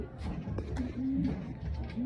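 Pet racing pigeons cooing in a loft in the late afternoon, soft low throaty coos close by over a busy background murmur.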